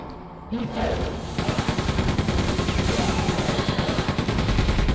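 A proximity bomb launcher fires repeatedly in Quake 2 on the N64, a loud continuous rattle of rapid blasts that starts abruptly and keeps going without pause.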